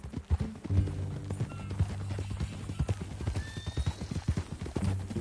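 Rhythmic clip-clop of horse hooves in Red Dead Redemption 2, a steady walking gait close by, with tack jingle and a brief whinny-like tone amid faint background sounds.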